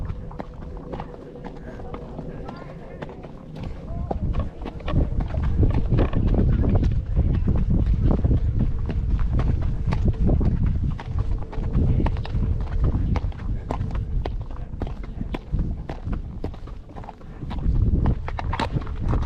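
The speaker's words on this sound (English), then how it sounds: "Good horse, Birdie. See how he goes down here" A horse walks a downhill trail on a Superstition Mountains ride, its hooves clip-clopping in a steady, close rhythm while a rider talks throughout and wind buffets the microphone.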